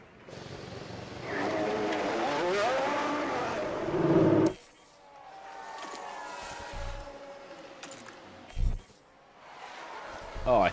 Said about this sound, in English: As cars are starting to go out now.